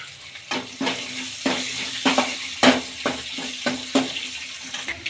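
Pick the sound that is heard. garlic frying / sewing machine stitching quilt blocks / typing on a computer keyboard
garlic frying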